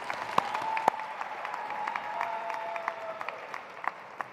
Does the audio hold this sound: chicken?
no